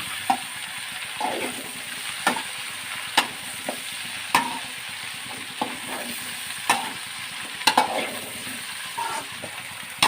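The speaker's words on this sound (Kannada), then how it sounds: "ತೊಳೆದು ಕಟ್ ಮಾಡ್ಕೊಂಡಂಥ ಬೆಂಡೆ ಹಾಕ್ಕೊಳ್ತೇನೆ. ಇದು ಸ್ವಲ್ಪ ಹಾಗೆ ಫ್ರೈ ಮಾಡ್ತೇನೆ." Washed, cut okra frying in a pan for a lady's finger gravy, a soft steady sizzle broken by sharp scrapes and clinks as a spoon stirs against the metal at irregular intervals, with no talking.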